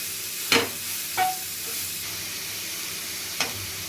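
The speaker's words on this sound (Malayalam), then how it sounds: "ഇതിലേക്ക് നമുക്ക് ഗ്രേറ്റ് ചെയ്ത് വെച്ചിരിക്കുന്ന മാങ്ങ ഇട്ട് കൊടുക്കാം" Grated raw mango tipped into rice in a pan and stirred, giving a soft steady sizzle with three sharp scraping clinks of the spoon against the pan.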